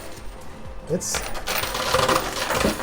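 Quarters clatter and drop inside a high limit coin pusher machine, a quick burst of metallic coin clinks building into a steady jingling wash, close and fairly loud.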